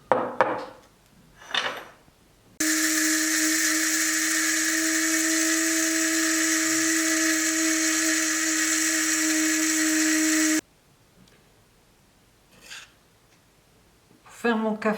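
A small grinder steadily milling roasted barley grains for homemade coffee substitute, a loud continuous high whirring drone lasting about eight seconds, with quiet handling noises before and after.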